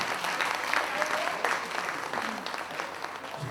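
Audience clapping at a couple-introduction event in a hall, a steady dense wash of applause running throughout at moderate loudness.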